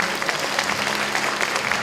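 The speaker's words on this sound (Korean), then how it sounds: "한번 큰 박수 부탁드립니다." An audience at a university president's inauguration ceremony in a hall gives steady, dense applause throughout.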